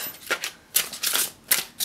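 Tarot cards are shuffled by hand in quick riffling bursts, four or five close crisp flutters in a steady rhythm, heard alone without talk.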